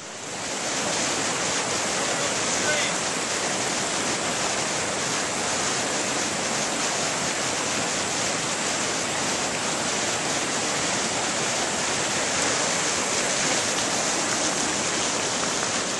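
Waterfall up on Pikes Peak in wet mountain underbrush, a constant dense hiss and roar of falling water, loud and unbroken for the whole stretch with no voices.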